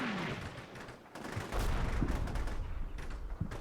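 Gunfire crackles in a military combat video game as forces engage, with bursts of shots and heavy booms rolling at mid distance, loud and continuous over a few seconds.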